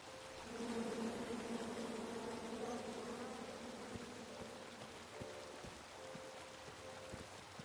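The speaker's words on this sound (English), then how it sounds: "Come at me, bees!" Bees in the King's Quest video game drone with a faint, steady buzz, low and sustained at first and then thinning into softer intermittent hums, with no one speaking.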